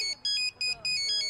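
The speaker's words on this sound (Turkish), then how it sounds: "Çaldır uzun çaldır çok seviyorum melodimi." A mobile phone ringtone plays a short, bright melody of repeated high electronic notes in quick pulses, loud and close.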